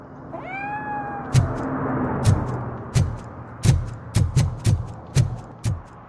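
A cat in the RoboCop Rogue City video game lets out one clear, rising meow at the start, followed by a run of sharp, evenly spaced heavy thuds like footsteps.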